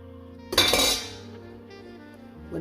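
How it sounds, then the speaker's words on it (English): A knife slicing washed parsley on a cutting board, with a burst of sharp clinking, chopping clatter that fades to quiet, then another light knock near the end. "I'll be slicing the Parsely."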